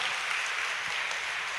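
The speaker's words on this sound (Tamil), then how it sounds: "நல்லா கைத்தட்டுங்க உற்சாகமா" A church congregation clapping their hands in thanks during a Lenten sermon, a continuous, even wash of many hands heard at low level without pause.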